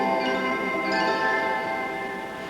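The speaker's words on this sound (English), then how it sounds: "Here's the harp." Harp stop of the Chicago Stadium pipe organ plays a sustained, bright cluster of plucked-style tones that slowly fade, close and clear, with no voices.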